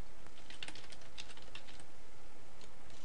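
Someone types a file name on a computer keyboard, a quick, irregular run of light clicking keystrokes heard close up against a faint background hiss.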